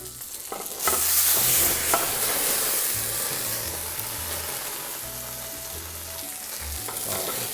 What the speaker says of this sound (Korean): 이렇게 해서 프랑베를 살짝 해줬습니다